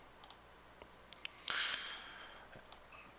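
Computer mouse clicks at a desk, a handful of sharp, faint, isolated ticks spaced irregularly, with a brief burst of brighter clicking and hiss in the middle, otherwise quiet.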